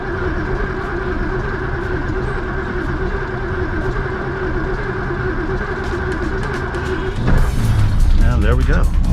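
A car engine starting after a loud, steady background rumble. A sharper cranking burst rises near the end as a person talks.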